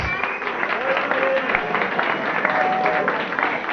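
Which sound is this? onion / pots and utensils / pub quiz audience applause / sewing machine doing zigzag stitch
pub quiz audience applause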